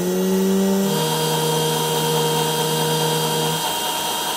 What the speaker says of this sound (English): Once I drilled my hole in the center